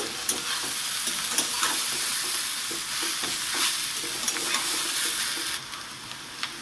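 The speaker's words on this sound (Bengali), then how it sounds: "ভালো করে একটু নেড়েচেড়ে মিশিয়ে দেব।" Fried potato and carrot pieces sizzle steadily in a pan with beetroot as a spatula stirs them, scraping sharply now and then over the continuous frying hiss, with no talking.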